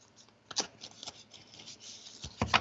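Tarot cards are shuffled by hand in soft, papery riffles and flicks, a few brief bursts close by in a quiet room.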